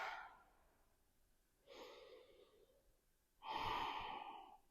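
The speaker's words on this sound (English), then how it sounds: "Take a breath here." Slow, deep breaths come during a yoga balance pose, quiet and close, with three audible airy inhales and exhales, the last one longest and fullest, and no speech.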